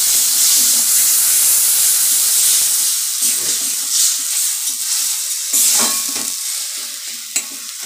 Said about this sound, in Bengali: এক চামচ হলুদ গুঁড়ো, 1 চামচ লঙ্কা গুঁড়ো, 1 চামচ আদা বাটা, পরিমাণ মতো জল, ভালো করে মশলাটা কষে নেব